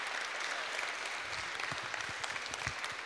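Applause from an audience at a Liberation Day concert after a pianist's performance, a steady wash of clapping at moderate distance, somewhat faint.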